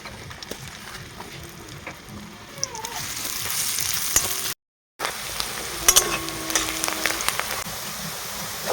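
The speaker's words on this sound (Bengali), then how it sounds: "এখানে দেব কেটে রেখেছি সেই পেঁয়াজ," Chopped onions frying in oil in a wok, giving a steady crackling sizzle that cuts out briefly midway, then resumes with scattered pops and a few stirring scrapes.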